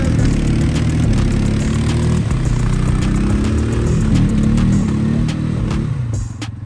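A vehicle engine revs hard and steady at close range while pulling out through mud, holding a loud throaty drone before easing off near the end.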